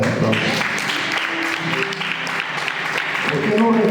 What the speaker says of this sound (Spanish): ¿Por qué no le das otra ofrenda de aplauso?